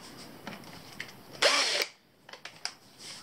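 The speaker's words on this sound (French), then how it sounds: "Le but ici est de percer la vis pour que la vis casse" Drill with a 2 mm bit boring into a small screw on a Vaterra Twin Hammer RC car, a single short high whine of about half a second amid quiet clicks and handling taps.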